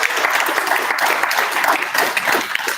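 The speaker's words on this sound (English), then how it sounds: "So if y'all could give a round of applause." An audience at a Monday lunch gathering with park volunteers claps in dense, steady applause that stays loud throughout the brief burst.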